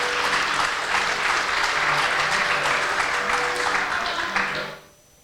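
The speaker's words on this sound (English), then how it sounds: "Let's give another round of applause for Shruthi." A crowd applauds a Kuchipudi dancer at her Rangapravesham, with loud, sustained clapping that holds steady and then stops abruptly near the end.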